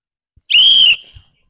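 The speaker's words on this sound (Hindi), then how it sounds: "सीटी बजाएंगे तो अपना काम शुरू कर देना।" A single sharp referee-style whistle blast, loud and close, sounds for about half a second to start a children's ball-and-bucket game, then trails off into quiet.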